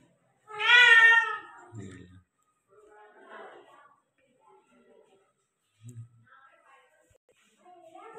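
A female cat in heat gives one loud, drawn-out meow close by, followed by a few quieter, shorter cries and soft rustling.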